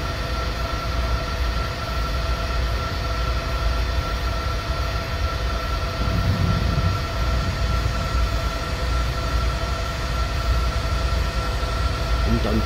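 A simulated locomotive-hauled train in Train Simulator 2020 rolls steadily along the track at low speed toward a track switch, with a continuous rumbling engine drone and faint wheel noise, no voices.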